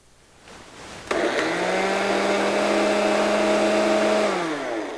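A food processor whirs loudly, starting abruptly and running steadily for several seconds as it blends basil, parsley, garlic, pistachios and extra virgin olive oil, then begins to wind down at the end.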